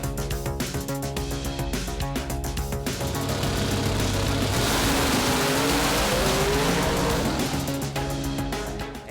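Mountain Motor Pro Stock drag racing cars roar loudly at an IHRA Nitro Jam event at US 131 Motorsports Park, engines revving and rising into a sustained full-throttle blast close by.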